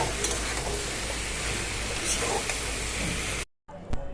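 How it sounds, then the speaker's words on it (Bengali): Rice boils hard in a pot, giving a steady, close, hissing bubble that runs without pause before cutting out abruptly near the end. "আর ওদিকে ভাত ফুটছে টকবক টকবক করে"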